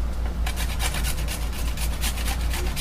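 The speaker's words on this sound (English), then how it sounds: "Now the last thing we're going to do is grate our garlic." Garlic being grated into a cooking mixture, a steady close raspy rubbing with rhythmic scraping strokes over a low background hum.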